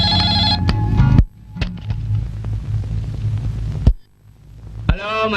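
A telephone rings in an office, with an electronic ringing tone heard in bursts separated by pauses, loud and close, alongside low hum and a few clicks.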